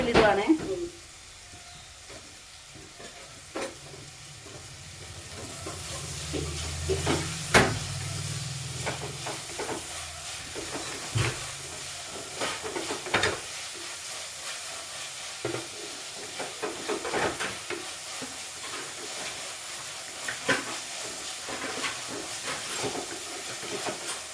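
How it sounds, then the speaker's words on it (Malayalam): Grated coconut being roasted in a pan in a home kitchen, a soft dry hiss and sizzle with scattered scrapes and clicks of stirring, faint and close, with a louder burst near the start. "തേങ്ങ വറക്കാൻ പോകണം"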